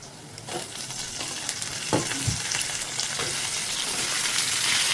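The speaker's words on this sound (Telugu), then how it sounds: "ఇప్పుడు తరిగి ఉప్పు నీళ్ళలో పెట్టుకున్న బంగాళదుంప ముక్కలు వేద్దాం." Potato pieces, soaked in salted water, hit hot oil with onions and turmeric in a pan, giving a steady loud sizzle and crackle that grows as they settle, with a few stirring scrapes.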